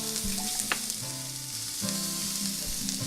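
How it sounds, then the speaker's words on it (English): Vegetables and crumbled tofu fry in a pan with a loud, steady sizzle and crackle, and occasional stirring scrapes come through clearly, with no voices. "Stir your veggies around a bit, fry them up for a few minutes, and then take your block of tofu and crumble the tofu into the pan."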